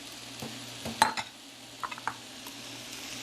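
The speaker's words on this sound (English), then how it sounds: "I'm going to stir this around." Broccoli, about 10 ounces, is stirred around a pan on a stovetop, giving a few scattered scrapes and clicks of a utensil, the loudest near the one-second mark, over a quiet background hum.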